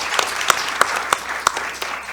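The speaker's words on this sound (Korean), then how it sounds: "박수 부탁드립니다." Audience at a public housing planning panel discussion claps briefly, a short burst of sharp, distinct claps from a modest crowd, fairly near.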